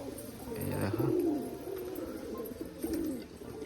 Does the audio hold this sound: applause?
no